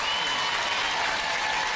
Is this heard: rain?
no